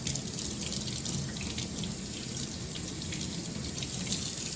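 A kitchen tap runs steadily while salmon is rinsed under it, a loud, close, continuous gush of water splashing into the sink throughout.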